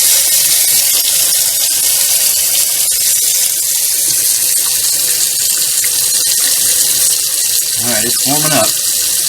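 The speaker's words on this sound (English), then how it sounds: "it's going to take a minute for the water to flow from the tankless water heater through 3/4 inch pipe all the way to this kitchen" Water running steadily from a kitchen tap fed by a tankless water heater through 3/4 inch pipe, a constant hiss throughout with a brief spoken remark over it.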